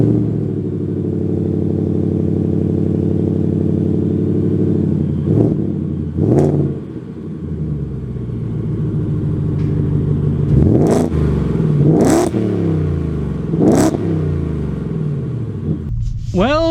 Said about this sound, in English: setting off in the Raptor R, the V8 powered Raptor